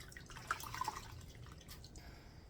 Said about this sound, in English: Let's rinse it out. I brought some water over here to rinse it out.